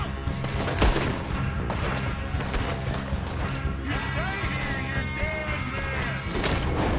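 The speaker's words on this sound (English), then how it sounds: "I'm just gonna shoot like this." Gunshots ring out in Red Dead Redemption 2, a few sharp reports amid dense game sound, with a voice talking over the action.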